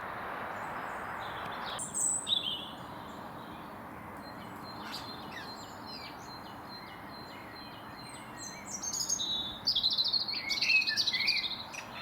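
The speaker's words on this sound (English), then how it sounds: "the robin and the song thrush are almost competing for the acoustics down here." A robin and a song thrush singing in a wooded hollow near Fulbourn, Cambridgeshire, with bright chirping phrases in bursts near the start and a denser, louder run of song toward the end over steady distant road hum.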